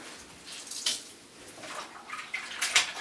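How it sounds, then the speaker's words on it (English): Soft water splashes and trickles as a baby is gently rinsed in a bath, several quiet, irregular splashes close by with no talking. "Just a little rinsing so that he gets used to the water."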